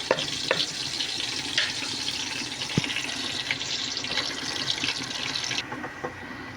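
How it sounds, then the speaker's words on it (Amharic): Water is poured into a cooking pot of oil, salt and seasoning for rice, a steady close splashing and gurgling stream with a few clinks, tapering slightly near the end. "እዚህ ጋር ደግሞ ትንሽ ውሃ እንጨምራለን።"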